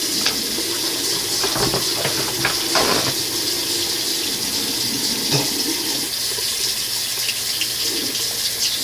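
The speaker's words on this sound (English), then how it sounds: "You always gotta turn on this hot water" Hot water gushing steadily from a tap, a loud continuous rushing stream with a few faint knocks and clatters in the first seconds and no speech.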